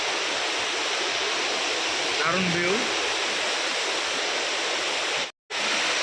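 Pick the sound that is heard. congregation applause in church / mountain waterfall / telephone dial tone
mountain waterfall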